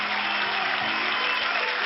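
Continuous dense applause, a steady band-limited wash of clapping without pauses, moderately loud.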